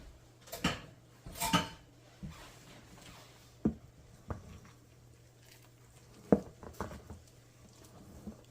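Spoon stirring 500 grams of blood for black pudding (morcilla) in a bowl, with a few sharp clinks against the sides and soft liquid swishing between them, close and fairly quiet, with no talking.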